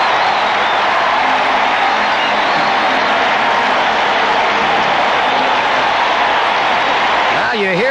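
A baseball stadium crowd at a 1984 Opening Day game between the Reds and the Mets roars and applauds in a dense, continuous wash of sound. A voice speaks over the noise near the end.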